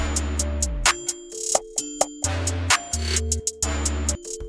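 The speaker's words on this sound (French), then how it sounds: "là on a notre ligne de basse et maintenant on se la descend et vous allez voir qu'elle sonne" A trap beat bass line plays in music production software as short synthetic notes stepping down in a choppy, repeating rhythm, with bright clicky attacks and brief gaps between them.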